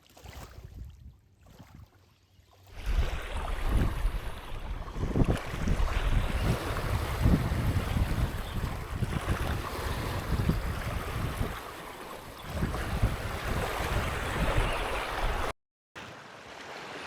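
Steady gusty wind and lapping waves fill the air on open water at Kaunas Reservoir during feeder fishing, a broad continuous rush that follows a quieter start and stays loud and close with no voices.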